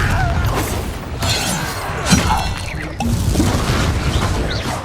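Fiery blasting spell from Hogwarts Legacy bursting in a chaotic duel, with crashing, shattering impacts and booms layered over a dense, steady roar of combat effects.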